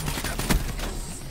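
A quick flurry of gunfire in Black Ops 3, with a shotgun among the weapons, sounds close and dense, one heavier blast standing out in the middle of a short, noisy burst.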